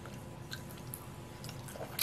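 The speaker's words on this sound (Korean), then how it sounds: "한번 먹어보겠습니다." A steamed Korean gochujang pancake (jangtteok), made without oil, is eaten up close, with soft, quiet chewing and squishy bites and a brief louder crunch at the end.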